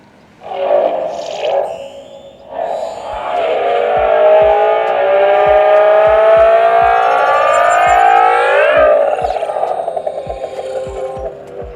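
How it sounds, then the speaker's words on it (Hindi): Bolt-mode sound from an Ola S1 electric scooter on OS 3, a loud roaring synthetic motor tone that builds and holds a rising, sweeping whine before easing off, with a few soft ticks underneath. "अब आते हैं बोल्ट मोड के साउंड पे"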